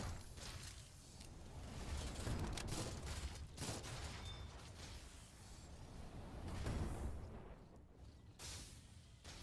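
Dense gunfire blasts continuously through a Mecha Girl Souls of Cerberus fight, loud and unbroken, with mechanical clanks and booms mixed into the din.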